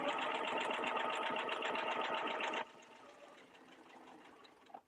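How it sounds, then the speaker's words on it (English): A sewing machine runs a quarter-inch seam across a quilt block, whirring steadily up close for a few seconds before stopping, leaving quieter handling sounds. "So just line it right up on there, and we'll just sew to the other side."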